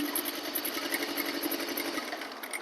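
A sewing machine runs steadily while stitching a curved neckline on fabric, a close, continuous rapid mechanical whir and clatter with no pauses.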